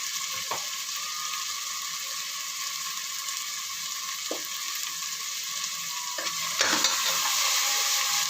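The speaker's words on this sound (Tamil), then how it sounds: "ஒரு ரெண்டு நிமிஷம் அதை வதக்கிடுவோம் அந்த பச்சை வாசனை போகிற அளவுக்கு கொஞ்சம் வதக்கிடுவோம்" Ground paste of ginger, garlic, green chilli, cloves, cinnamon and cardamom sautéing in a pan for vegetable biryani, a steady close sizzle with a few sharp stirring scrapes and clinks, growing slightly louder toward the end.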